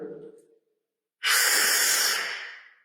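A person draws a long, strong breath in to pull a wine sample from the cask into a bottle, a loud, close, airy rush lasting about a second after a short murmur.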